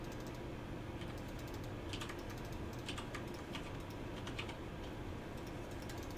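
Keystrokes on a Ducky keyboard tap out in quick, uneven clusters, moderately close and steady over a low background hum with no talk.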